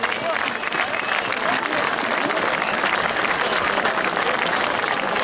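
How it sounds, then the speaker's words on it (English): A marching crowd in Birmingham breaks into loud, continuous applause, dense clapping with cheering that stays steady throughout without a break. "DFLA, give yourself a round of applause"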